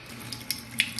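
Water runs from a tap onto a hand in a short, soft stream, with small splashy spatters rising over the steady flow.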